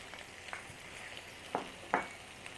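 Parwal (pointed gourd) and potato pieces fry quietly in a pan, a soft continuous sizzle broken by a few sharper spatula scrapes or stirs, with no voices.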